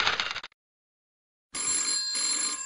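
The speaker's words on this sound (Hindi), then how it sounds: "तो आइए सबसे पहले बात करते हैं हमारे पहले कॉलर कुमार अभिषेक जी से।" A telephone rings for an incoming caller on a talk programme: a short burst of ringing, a second of silence, then a longer bright electronic ring, heard alone without speech.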